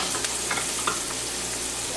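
Garlic sautés in a hot pan, giving a short burst of steady crackling sizzle with a few faint clicks, close and alone.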